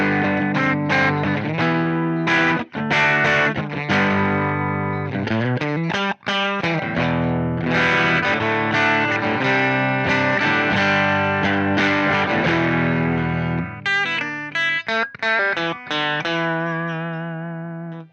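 Electric guitar played through an Aclam Go Rocky Go pedal set to crunch mode, a mildly overdriven tone between clean and distortion, with a steady run of strummed chords and riffs, loud and close, no talking.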